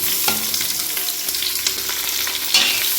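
Onions frying in oil for chicken biryani, a close, continuous hiss and crackle with a few soft stirring scrapes against the pot.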